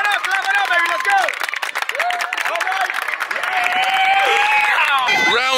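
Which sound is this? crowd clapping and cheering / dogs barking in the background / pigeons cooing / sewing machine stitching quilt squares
crowd clapping and cheering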